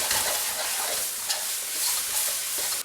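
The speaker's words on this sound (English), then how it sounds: "just let her sizzle for a bit first" Fried rice sizzles steadily in a hot frying pan, with a few scraping stirs cutting through the crackle.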